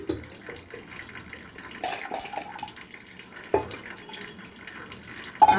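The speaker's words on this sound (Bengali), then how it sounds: "এরপর এটাকে ভালো করে ওয়াশ করতে হবে।" Sweet corn kernels are washed by hand in water, with close splashing and sloshing, a few louder swishes, and light clinks from the vessel.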